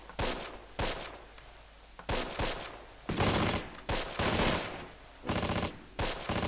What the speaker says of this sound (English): our machine gun has started firing again